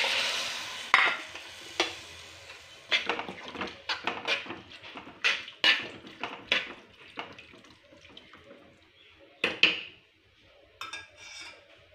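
Tamarind water, boiled with tamarind, is poured into a dried shark curry and stirred, giving a run of scraping stirs and liquid sloshes against the pot, close and fairly loud, with no talking.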